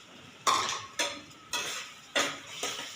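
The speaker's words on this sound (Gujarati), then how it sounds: "એકદમ સરસ મિક્સ થઈ જાય ત્યાં સુધી બરાબર હલાવીશું" Sheera being stirred in a pan after milk and sugar are added, five distinct scraping strokes in a loose rhythm, each a brief bright swish over a soft bubbling sizzle, close and clear with no talking.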